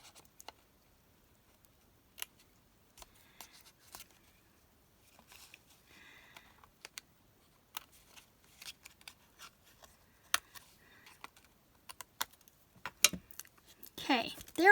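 Small scissors snip trim from a handmade MemoryDex card during paper crafting, sparse sharp clicks scattered across a quiet background, with a few brief rustles and a faint denser burst near the end.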